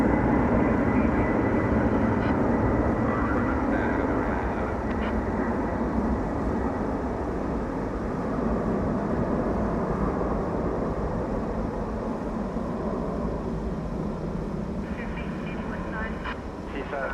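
An MD jet airliner departs DFW Airport at night with a sustained broadband engine roar that slowly eases, while a person talks over it.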